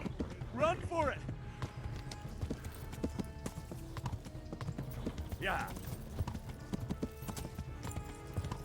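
Horses gallop in the medieval video game Kingdom Come: Deliverance with a continuous clip-clop of hooves, and two brief whinnies rise over the running hoofbeats.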